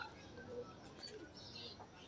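A pigeon coos softly and faintly outdoors in a village lane in Dhrampur, a brief low call over quiet ambient background.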